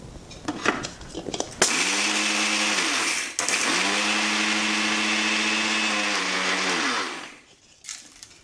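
Roasted rock salt being ground in a mixer grinder, two loud whirring bursts with a high motor whine, one brief stop between them, then a winding down and quiet rattles.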